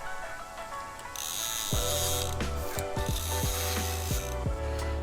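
A Lidl fishing reel being screwed onto a feeder rod, giving a loud close run of ratcheting clicks and mechanical pawl ticks in quick irregular bursts.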